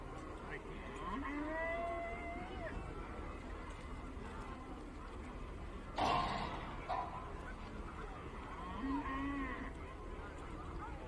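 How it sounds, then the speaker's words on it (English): Cattle moo in a few low, drawn-out calls spread across a campdraft event at Juandah Plains, set against steady crowd and arena noise with a brief loud clatter midway. "this line of cattle that's just keep coming"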